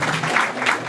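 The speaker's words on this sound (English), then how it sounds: "You guys should give yourselves a round of applause." Comedy club crowd applauding at a stand-up show, a brief, loud, dense roar of clapping that sounds close and full.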